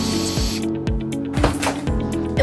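A spray can lets out a short, close hissing burst, followed by a few dull knocks and handling noises in a quiet room, with no talking.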